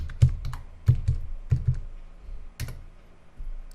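Fingers type a snap refresh command on a computer keyboard: a few quick clusters of crisp key clicks with short pauses between them, close and fairly quiet.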